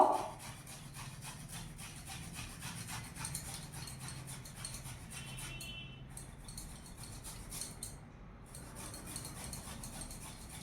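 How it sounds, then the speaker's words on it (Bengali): Ginger, about an inch and a half, rubbed against a grater while preparing radish paratha: a steady, close rasping scrape that runs continuously with no speech. "আদাটাকে আমি গ্রেট করে নেব।"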